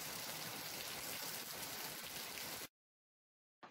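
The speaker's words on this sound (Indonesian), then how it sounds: "pagi itu udah kayak sore aja gitu hujan mulu nggak berhenti berhenti" Continuous rain falls steadily in a loud, even hiss, then cuts off abruptly to silence before briefly resuming at the end.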